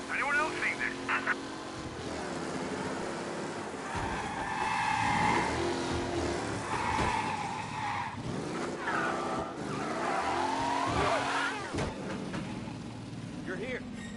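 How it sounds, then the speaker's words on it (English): A race car speeding through city streets in the Mafia video game, engine revving with repeated tire squeals and skids at moderate volume, mixed with other game sounds and voices. "Officers reporting a race car driving at speed through the city."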